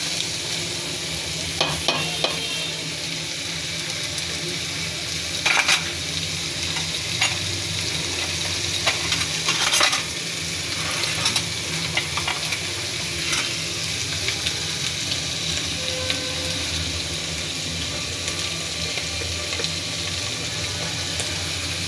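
Small baim fish frying in oil and turned in a pan: a loud, continuous sizzle with scattered clicks and scrapes from stirring, close up and steady throughout without speech.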